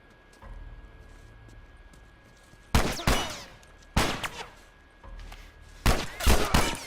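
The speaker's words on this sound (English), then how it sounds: "Tess, time to shoot." Gunfire in The Last of Us video game: three loud, sharp volleys of rapid shots, separated by brief pauses, over a quiet background.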